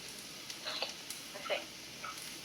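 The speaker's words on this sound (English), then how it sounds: "onions and carrots should be in the wok or your pan. You want to move those around so they can start cooking" Onions and carrots stir-fry in a wok with a soft, continuous sizzle. Scattered clinks and scrapes come from stirring, and a voice is faintly audible in the background.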